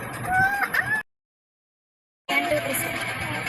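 A hen clucks close by amid high peeping chicks, brief calls in two bursts separated by a moment of silence.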